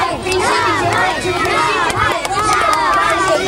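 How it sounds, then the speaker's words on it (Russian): Crowd at the finish line of a festival race, a dense, lively mass of shouting and cheering voices with children's calls, loud and close and continuous. "Прямо такая на финише толпа"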